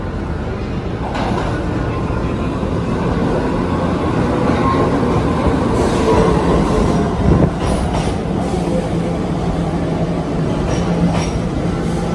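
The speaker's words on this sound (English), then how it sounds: "It's just a subway. Looks like it's an R46." An R46 New York City subway train rumbles loudly and steadily through a station, with low-end roar, occasional wheel squeals and clattering over the rails.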